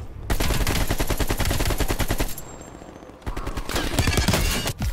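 Sustained rapid automatic gunfire in Call of Duty: Black Ops Cold War multiplayer, loud and close, with dense regular bursts, a short lull, then more heavy firing.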